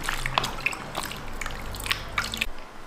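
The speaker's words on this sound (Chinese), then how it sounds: "首先我们将豆角用水给它清洗干净" Green beans are rinsed in water by hand, with small splashes, drips and wet rubbing close up, several soft sloshes in an irregular pattern over a low background hum.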